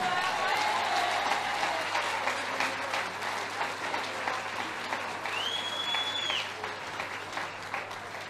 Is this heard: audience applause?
yes